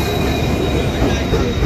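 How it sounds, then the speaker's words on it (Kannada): A train at a railway station, rumbling loudly and close with a steady metallic wheel squeal over dense low-frequency noise, and no voices. "ಹಾಯ್ ಗೈಸ್, ಇದ ನಮ್ಮ ಟ್ರೈನ್."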